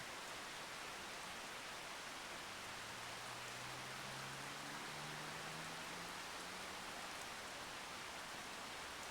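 Steady, even rain from the Farming Simulator 25 farming game hisses continuously at low volume, with no breaks and faint low tones drifting briefly through the middle.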